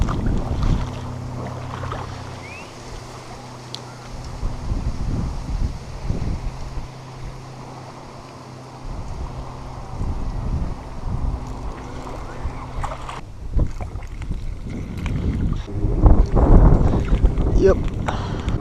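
Wind blowing over open water while fishing for bluegill from a small boat, a constant breathy rush against the microphone with a low hull hum, and a person talking in the middle.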